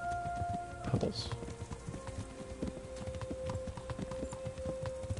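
Horse hooves trotting in the medieval video game Kingdom Come: Deliverance, a steady clip-clop rhythm at close range under a low ambient hum and a brief snort or whinny-like sound.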